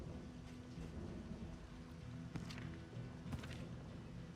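An Acid Rain spell in the video game Darkest Dungeon 2 brings steady, soft rainfall with low rumbling thunder underneath, a faint hiss throughout and brief crackles near the middle and end.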